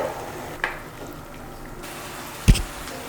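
Methi matar malai gravy with cream cooking in a pan on a stove: a faint, continuous low bubbling sizzle with a soft clink early on and a sharper knock or scrape near the end.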